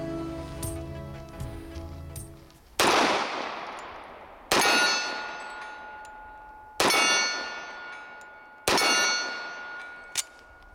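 A stainless Colt Gold Cup Trophy 1911 pistol fires at a green steel target 18 yards away, with four loud shots each followed by a ringing metallic clang, spaced about two seconds apart.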